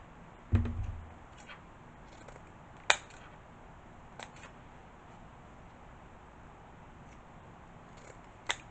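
Scissors snipping folded ribbon to make dovetail ends for a fall wreath, a few isolated sharp cuts and clicks spaced apart over quiet room tone.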